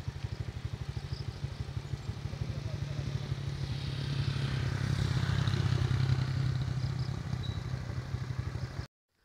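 A motorized tricycle's engine throbs steadily close by on a long downhill road near a forest, its low pulsing running the full length and swelling slightly midway before cutting off.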